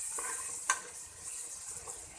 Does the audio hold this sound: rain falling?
no